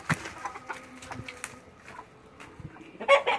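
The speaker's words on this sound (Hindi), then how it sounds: "यही हमारे मुर्गे वर्गे हम लोगों ने पाले हुए" Pet roosters and chickens in a domestic yard give soft, scattered clucks, faint and intermittent against a low outdoor background, with a louder burst of clucking at the end.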